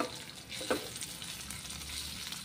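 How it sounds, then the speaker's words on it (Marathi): Poppy seeds and sesame seeds roasting in a pan over a low flame, a soft, faint sizzle with a light stir or scrape partway through. "खसखस सुद्धा आपल्याला तिळासोबत व्यवस्थित आता यावरती मंद आचेवर परतून घ्यायची आहे"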